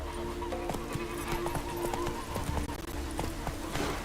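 Hooves of a horse clip-clopping at a steady gallop rhythm in The Witcher 3, continuous and fairly close over game ambience and music tones.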